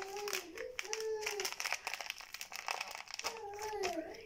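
Ready-made whipped cream powder packet crinkling and rustling as it is handled, with crisp crackles running throughout while someone talks over most of it.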